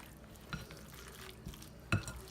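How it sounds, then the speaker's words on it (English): Pot sticker filling mixed with egg white in a bowl, giving faint, soft stirring and squishing with a few light knocks of the utensil against the bowl, the last one a bit sharper, in a quiet room. "So you want to mix this well."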